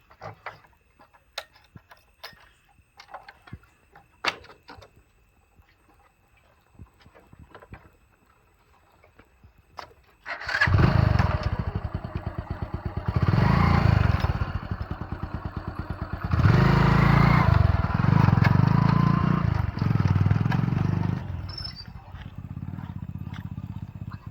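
A motorcycle engine bursts in loud about halfway through after quiet clicks and ticking, then runs close with repeated surges and dips in revving, with some talk around it.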